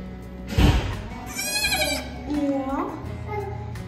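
Young goat kids separated from their mother bleat loudly and repeatedly in wavering cries nearby, overlapping someone talking over them.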